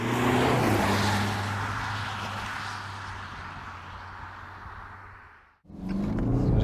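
A 2021 BMW 420d G22 diesel with a ZF 8-speed gearbox and rear-wheel drive drones steadily under load, the engine note easing before a sudden brief drop and a fresh surge as it pulls again.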